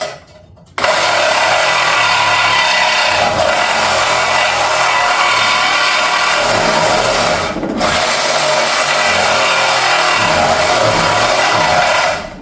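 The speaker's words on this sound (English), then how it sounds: "I cut in first, otherwise it'll just go over the top of the weld." A drill press set up as a milling machine cuts into a weld on an intake manifold: a loud, steady, continuous grinding whine from the cutter starts abruptly and runs almost unbroken, with one brief dip partway through, close and without speech.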